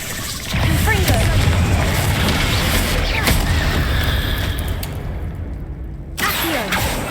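Fiery Confringo blast spell in Hogwarts Legacy, a loud booming burst followed by sustained rumbling crackle, with a brief renewed impact near the end; no talking.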